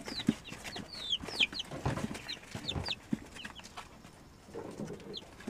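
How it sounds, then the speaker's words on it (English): Jersey Giant rooster and chickens clucking and calling in short, scattered bursts, fairly close, with other birds chirping lightly and some rustling in the background. "It's a rooster."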